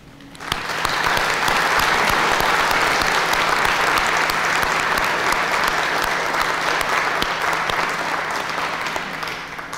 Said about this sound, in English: And I think they need a big round of applause